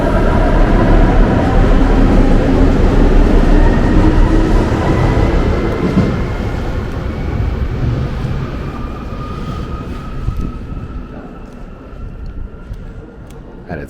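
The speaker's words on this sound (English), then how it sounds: "Characteristic sound of the Munich S-Bahn out of the station." A Munich S-Bahn train pulling out of the terminal station at Munich Airport, a loud low rumble and rising motor whine that gradually fades as it departs, leaving quieter station ambience.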